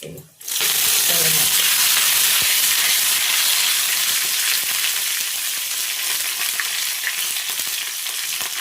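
Tempering for curd rice sizzles hard in hot oil in a pan, a loud, dense, continuous crackling hiss that bursts in almost at once and holds steady throughout.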